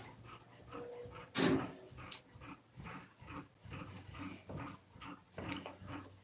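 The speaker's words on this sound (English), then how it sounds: "These dogs, I swear." Dogs whimpering and panting nearby, with soft rhythmic breaths and whines punctuated by a sharp loud clatter and a second short knock early on.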